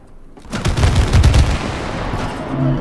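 Gunfire in the video game It Takes Two, a burst of rapid close shots lasting about a second, then a lingering rumbling tail fading out, with no voices.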